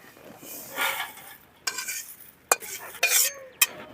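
Roasted curry leaves tipped out of a pan with a metal spoon, soft scraping and rustling followed by a few sharp clinks of metal on metal, close and fairly quiet.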